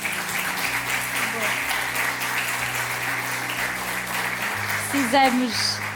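An audience at a televised tour event breaks into applause, a steady moderate patter of clapping that carries throughout, with a voice speaking over it toward the end.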